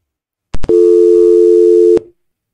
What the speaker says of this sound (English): We'll dial the number.